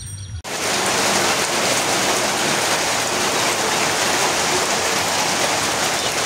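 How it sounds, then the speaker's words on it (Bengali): Steady, loud rainfall begins abruptly and keeps up a dense, even hiss of drops hitting surfaces. "শুরু হয়ে গেল বৃষ্টি।"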